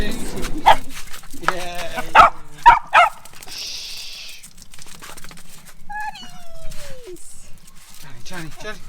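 Small dogs in a pine forest bark, yelp and whimper excitedly in short bursts, close at hand, with quiet rustling in between and a few higher whiny squeals.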